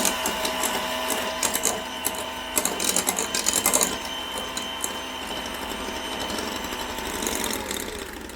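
An electric hand mixer beats cake batter as eggs are added, producing a loud, close, continuous whirring motor drone with a buzzy rattle that holds steady throughout.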